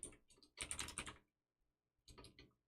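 Quick clicks of typing on a computer keyboard come in two short bursts with a silent gap between them, close and fairly quiet.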